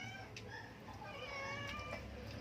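A cat meows repeatedly in drawn-out, wavering cries, fairly soft, over a low background hum.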